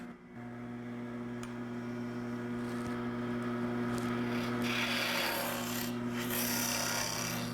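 A square-ended 20 mm scraper cuts the inside of a wooden box spinning on a lathe. A loud, continuous rasping scrape sits over a steady motor hum and grows harsher toward the end.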